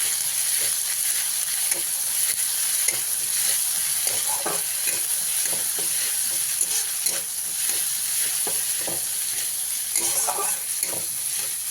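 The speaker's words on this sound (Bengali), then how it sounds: "দিয়ে ভালো করে আমি ভাজা ভাজা করে নেব" Ginger and green chili fry in hot oil, a steady, dense sizzle and crackle with occasional stirring scrapes, continuous throughout.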